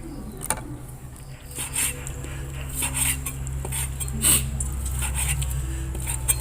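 Knife clatter and clinks as raw beef is sliced for a Thai Isan beef koi dish, with repeated sharp taps of the blade against a board or dish over a low steady hum, fairly close.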